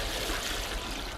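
A watering can pours water onto potato pots, a brief steady hiss of flowing water up close, with no talking.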